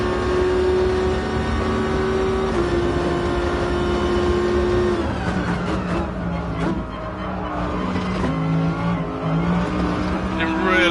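Race car engine in the video game Gran Turismo Sport, loud and close, with whining revs rising and dropping through gear changes and downshifts while someone talks over it.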